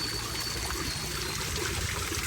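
Water trickles steadily through a stone-lined water feature with fish in the courtyard of a newly built house, a soft continuous splash heard close by with no talking.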